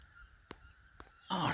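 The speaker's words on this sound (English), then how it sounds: "Oh, scared of ducks. I didn't even know they was over there." Waterfowl honking near a lake spillway and creek, a few faint brief calls in the distance followed by a rising burst of flapping or rustling noise.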